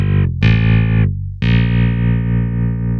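A GSI Gemini DMC-122 combo clavinet played loud and bright with distortion and effects, notes struck hard so the pitch bends and wobbles, a sustained buzzy chord cut by two brief gaps, then held ringing to the end.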